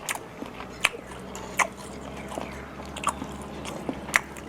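Close, crisp bites and chewing from someone eating northern Thai spicy beef curry (Mon-style) with rice, with sharp irregular crunches over a steady low background hum and no talking.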